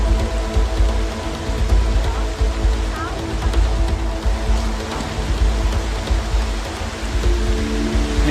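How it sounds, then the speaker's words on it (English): Steady rain falling on a forest research site among giant fallen trees, a dense, continuous patter of drops on leaves and surfaces at close range, with a faint voice underneath. "And it rains always."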